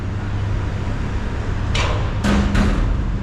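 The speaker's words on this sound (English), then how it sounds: "It's just some construction going on over here." Construction hammering at a building site next to a performing arts building in Omaha, Nebraska: three sharp knocks, the last two close together, ring out over a steady street-side rumble.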